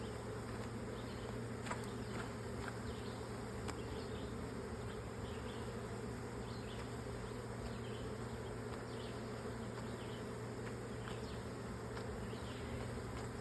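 A swarm of bees hums continuously while being boxed, a dense, steady buzz that stays even and fairly faint throughout, with occasional individual bees passing close.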